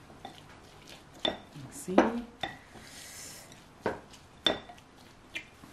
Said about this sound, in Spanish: Y vamos a mezclar para dejarlo marinando un momentico.